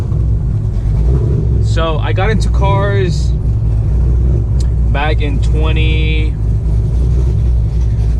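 A straight-piped fifth-generation Chevrolet Camaro SS V8 drones with a steady, loud low rumble while driving, continuous throughout beneath someone talking over it.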